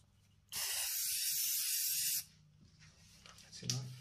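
A spray can or bottle releases one steady, close hiss lasting a bit under two seconds, followed by faint handling sounds and a brief low murmur.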